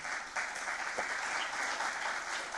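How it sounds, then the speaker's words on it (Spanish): Sustained audience applause at a church gathering, a dense, even wash of many clapping hands continuing steadily for a few seconds at moderate loudness. "Denle un aplauso gigantesco a Dios."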